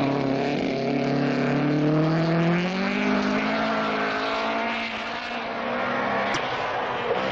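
A Datsun rally car driven by Andy Dawson, suffering severe front wheel wobble, races in the 1976 Scottish Rally, its engine a loud sustained snarl whose pitch climbs and shifts steadily for several seconds, no voices over it.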